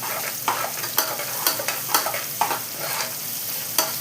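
Onions with salt sautéing in a pan for prawn biryani, a steady close sizzle broken by regular scraping strokes of a spoon, about two per second.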